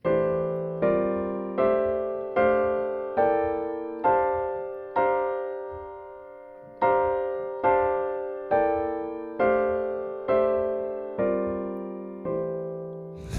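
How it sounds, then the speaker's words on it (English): A harmonized C dominant scale played as a run of sustained chords, each struck cleanly and left ringing. It climbs step by step, pauses briefly, then descends in an even rhythm, close and clear with no talking. "I just played this scale so you could hear it harmonized"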